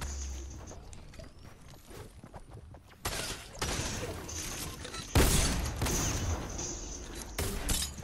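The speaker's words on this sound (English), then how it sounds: "he's shooting me through the build" Gunfire in the Fortnite video game arrives as sharp bursts of shots and booms, louder around the middle, with a low voice under the game sounds.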